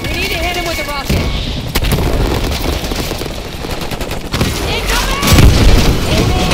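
A loud, continuous battle in Call of Duty: Black Ops 6 mixes rapid automatic gunfire with heavy booming blasts, including a deep rocket explosion near the end, under shouted voices.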